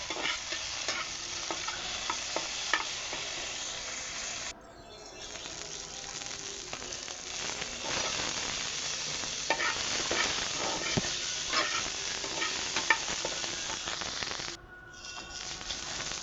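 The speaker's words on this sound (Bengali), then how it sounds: "এখন আমি ভর্তার জন্য মরিচগুলো ভেজে নিব।" Green chilies for bhorta frying in a pan, a steady close sizzle with the scrape of stirring throughout, briefly dipping twice.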